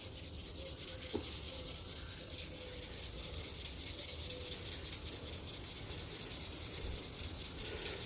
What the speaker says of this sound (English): this wet sanding gives you the finish you want